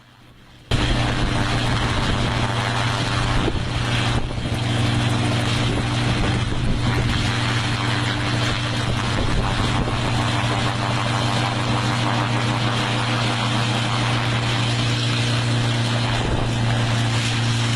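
An aircraft attempting to land gives a loud, steady engine drone that cuts in after a brief quiet moment and holds unbroken for the rest of the stretch, with no talk over it.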